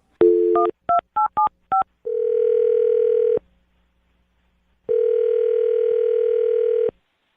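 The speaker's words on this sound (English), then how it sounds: "I'm going to dial his phone number right now" A phone number being dialed: a quick string of touch-tone beeps, then a ringback tone that pauses before sounding again, clear and isolated, with no voices.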